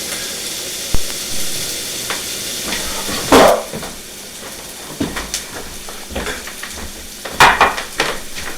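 Onions sweat and start to caramelize in a hot pan, giving a steady close sizzle broken now and then by the clatter and scrape of a utensil stirring against the pan.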